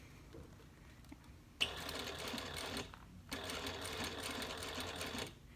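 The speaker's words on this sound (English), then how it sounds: "You're sewing from one end of the connector to the other" A sewing machine stitches a hidden connector on a bag, running in two steady buzzing bursts with a short pause between them. The sound is close and moderately quiet, with no talk.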